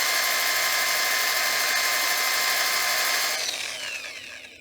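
A power drill spins a sandpaper mandrel against a wooden platter, a loud steady high whine for over three seconds that then winds down and fades as the drill slows.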